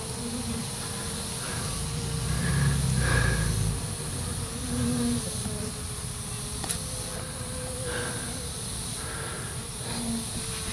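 Honeybees buzzing around a swarm trap hive during an inspection, a steady low insect hum with brief louder swells as individual bees pass near, fairly faint and without talk.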